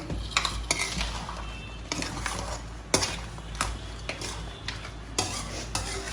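A spoon stirs thick crab pepper masala in a pan, scraping and clinking at irregular intervals over a soft sizzle, close up, with no talking.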